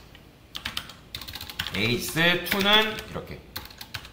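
Quick, close clicks from a computer keyboard come in short bursts as code is entered, while someone speaks Korean over them.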